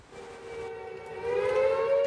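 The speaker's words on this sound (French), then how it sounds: "D'autres communes sont averties d'une inondation imminente par ces sirènes héritées de la Seconde Guerre mondiale" A World War II-era civil defense siren sounds a warning of imminent flooding in a village during a storm in northwestern Europe, a sustained wailing tone that swells and climbs in pitch, loud and alone.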